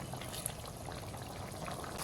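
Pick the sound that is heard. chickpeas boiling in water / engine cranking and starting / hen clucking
chickpeas boiling in water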